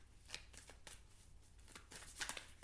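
Cards from an angel oracle deck, the Metatron deck, riffle and flick in quick dry bursts, several soft clustered shuffles close by with no voice.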